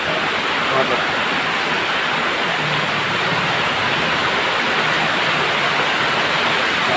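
A rain-swollen stream rushes in a dense, constant roar throughout, loud and close, with no break.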